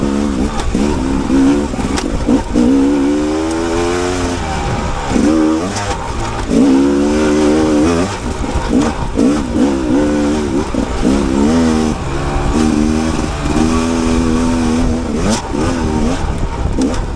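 A 2022 Rieju MR 300 Pro dirt bike is ridden hard, its engine loud and close, revving up and down in repeated surges with gear changes throughout, and no talk over it.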